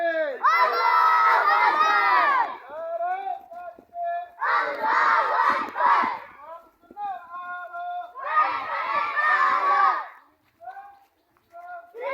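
A crowd of madrasah students shouts takbir together in three loud, sustained bursts, each separated by brief pauses filled with a single leading voice and scattered calls.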